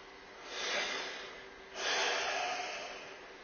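A woman feigning sleep gives two breathy, snort-like snores, the first swelling near the start and a louder second one midway, both close and exaggerated against a quiet room.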